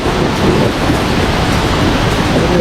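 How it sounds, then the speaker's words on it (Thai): A roaring waterfall more than 40 metres high pours over a cliff, giving a loud, dense, continuous rumble of crashing water close by, with no voices. "เนี่ยมันเป็นน้ำตกมาแล้วก็ ตรงนี้มันเป็นหน้าผานะ"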